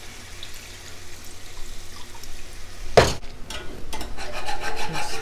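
A spoon scrapes and swirls a mixture of chicken seasoning and water in a pan, a grainy rasping rub near the microphone followed by watery sloshing and stirring.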